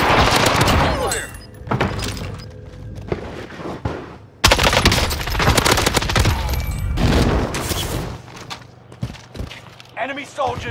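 Gunfire in the battle royale shooter Warzone, using a Welgun class loadout, crackles in repeated bursts across the clip, loud and close, mixed with game voice callouts and other battle noise.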